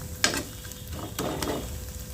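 A ladle scrapes and stirs pumpkin flower mash with coriander leaves in a pot, giving two or three short clattering, scraping strokes close by, with no talk over them.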